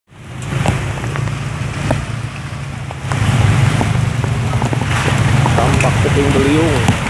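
Whirlwind (angin puyuh) roars in Bogor, a heavy continuous wind rush that swells louder midway, with people shouting and talking over it.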